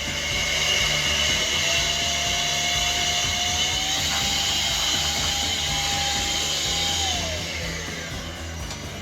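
A Charmani electric air duster blows dust out with a loud, steady whining rush of air that shifts pitch midway and eases off near the end, close and continuous with no speech.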